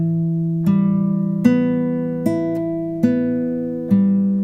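Six plucked guitar notes, each cleanly picked and ringing into the next at a slow, steady pace, as an ABRSM Grade 1 scale is played up close with no voices.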